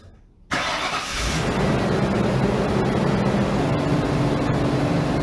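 A dirt track bomber race car engine cranks and fires after a brief quiet moment, then settles into a loud, steady, rumbling idle close by, with no talk over it.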